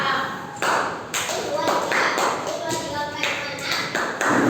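Classroom of junior high students performing the Tepuk 369 hand-clapping game, a burst of quick sharp claps and taps in an irregular rhythm, close and fairly loud, mixed with children's voices and chatter throughout.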